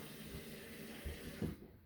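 Tap water runs steadily into a clogged bathroom sink, a continuous close splashing flow with a couple of small gurgles before it cuts off near the end.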